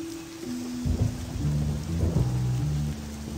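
Steady rain pours down with deep rolling thunder rumbling underneath in a dark night scene of the video game Little Noir Stories, loud and continuous with no voices.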